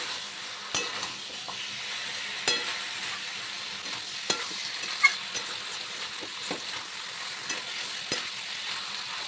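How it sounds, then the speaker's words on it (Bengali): Potatoes and pointed gourd stir-fried with spices in a pan for a prawn dish sizzle softly, with a spatula scraping and clinking against the pan in irregular strokes. "এবার ভালো করে মশলার সঙ্গে আলু আর পটল কষিয়ে নেব"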